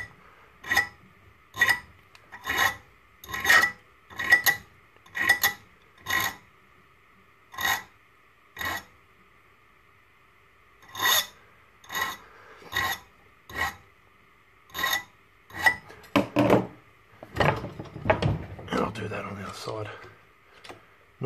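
A double bevel Tusker Concorde tip is sharpened in a rhythm of short, crisp rasping strokes, about one per second with brief gaps, close and clear, ending in a quicker scrubbing flurry.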